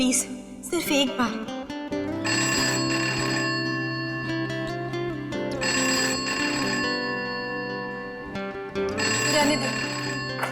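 Telephone bell ringing in repeated bursts with short pauses between them, fairly loud in an indoor domestic scene, with background music and occasional voices underneath.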